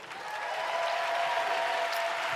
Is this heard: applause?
yes